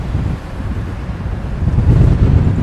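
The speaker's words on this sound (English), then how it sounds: "the wind's getting to the camera" Wind buffets a port camera fixed to the side of a building at the Port of Southampton, a loud, steady low rumble and roar that swells toward the end, with no voices.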